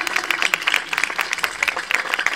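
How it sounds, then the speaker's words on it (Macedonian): An audience claps for an award recipient at a ceremony, a dense burst of many hands with individual claps standing out, fairly close and loud throughout. "аплауз за Иван."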